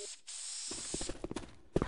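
Spray decal hiss in Left 4 Dead 2, a short bright burst of spraying hiss that opens and fades into clicks, thumps and game noise.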